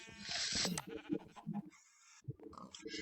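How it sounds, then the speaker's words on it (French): Blocky-game sheep from a Minecraft one-block survival world give a few wavering bleats close up, mixed with soft in-game clicks and footsteps and a short silent pause. "Ah, un autre mouton, bon,"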